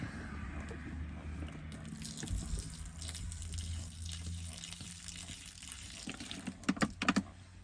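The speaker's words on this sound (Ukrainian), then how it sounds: "У нас є скіфська криниця негазована, літр півлітри ми відільємо." Still Skifska Krynytsia bottled water, about half a litre, is poured out for a British field ration, a soft steady trickle over a low hum, with a few sharp clicks near the end.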